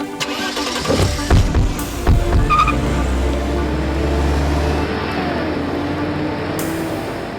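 A car engine starts and idles, then revs and pulls away over steady broadband road noise. No clear tire squeal stands out.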